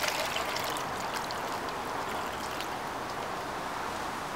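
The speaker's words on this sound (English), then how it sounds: "I'm just going to add my fish in here." Water and fish are poured steadily into a bucket to make a small mini pond, giving a continuous close splashing pour with no talk.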